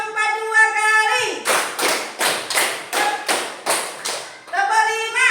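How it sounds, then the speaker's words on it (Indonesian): About eight loud, evenly spaced hand claps, a four-count pattern done twice, come from a class clapping game led by a teacher, with her melodic voice before and after. "tepuk 4 2 kali,"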